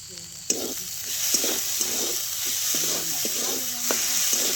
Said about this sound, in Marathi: थोड्या वेळ चांगलं परतून घ्यायचं.